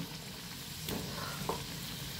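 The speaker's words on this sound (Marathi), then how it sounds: "निवांत तळून घेणे, खूप घाई नको" Sabudana vadas, patties of soaked tapioca pearls, frying in a kadai of oil over a medium-high flame, giving a steady close sizzle with a couple of faint clinks.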